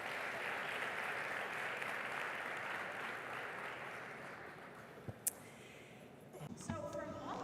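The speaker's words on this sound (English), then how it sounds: "please give them a round of applause as they join us up here today" An audience at a travel summit applauds panelists joining the stage, with steady, fairly loud clapping that fades toward the end, followed by a few stray thumps and a brief voice.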